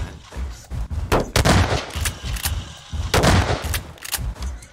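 Repeated loud shotgun blasts in Garry's Mod, a FNAF roleplay game, fired in close irregular bursts of several shots each.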